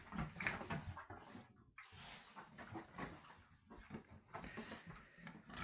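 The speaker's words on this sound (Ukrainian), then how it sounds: "Чотири свинки тут уже." Several pigs grunt and snuffle at a feeding trough on a farm, soft and fairly close, with short bursts of rooting and a knock against the trough.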